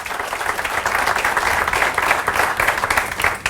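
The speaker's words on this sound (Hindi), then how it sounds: "जोरदार तालियां हो जाए इनके लिए" Loud, dense applause from a training seminar audience in Mumbai, a steady sustained wash of many hands clapping together with no pauses, filling the room throughout.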